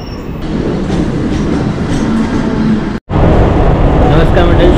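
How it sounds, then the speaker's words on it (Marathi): A Karjat-bound local train rumbles and clatters while pulling into platform 3, a loud close steady roar with a short break near the middle and voices faintly audible underneath. "कर्जतकडे जाणारी गाडी प्लॅटफॉर्म क्रमांक 3 वर येत आहे।"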